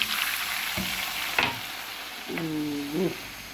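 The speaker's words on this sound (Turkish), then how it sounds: "Tereyağımız yanınca unumuzu ilave edelim." Flour being stirred into hot melted butter for Turkish flour helva, a steady close sizzle with a few scraping strokes and soft clinks of the spoon against the pot.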